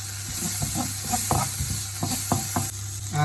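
Onion and garlic sizzle steadily in a hot pan while a spoon stirs and scrapes through them in short, repeated strokes, close and clear with no talk.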